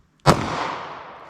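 A single sharp pistol shot from a .40 S&W round fired through a 3.2-inch barrel into ballistic gel, a loud close crack that rings out and decays over about a second.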